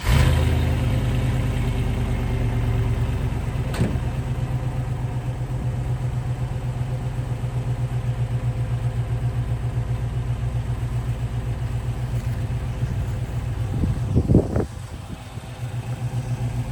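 LS V8 swapped into a motorhome firing up through a new custom exhaust with mufflers, settling into a steady low idle rumble with a brief blip of revs near the end.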